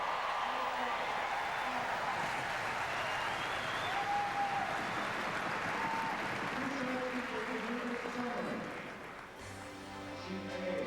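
Applause from a large crowd at the 2004 Continental Cup of Curling singles competition, a steady roar of clapping for about ten seconds under a commentator's voice, thinning slightly near the end.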